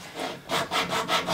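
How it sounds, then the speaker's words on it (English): Close, rhythmic rasping of a tapered sanding stick swiped back and forth across a wooden tenon being fitted to a mortise, several short even strokes in quick succession with no talk. "I just use a sanding stick and just give it a few swipes"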